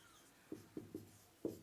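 Chalk or marker strikes a classroom board in four short, distinct taps and strokes, quiet and alone against a faint background.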